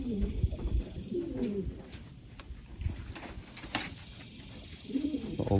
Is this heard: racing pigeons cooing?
yes